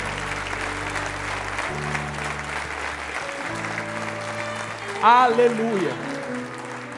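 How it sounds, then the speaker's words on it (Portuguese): Congregation at a Brazilian church healing conference applauding steadily in place under music, with a voice calling out over the clapping near the end. "Você pode aplaudir o Senhor em teu lugar?"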